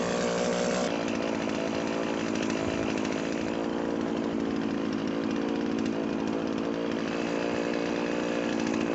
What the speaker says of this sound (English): While the chainsaw is running out of fuel